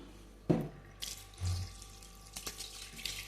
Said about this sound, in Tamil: ஸோ தண்ணி ஊற்றி அன்ஃப்ரீஸ் பண்ணிக்கலாம்.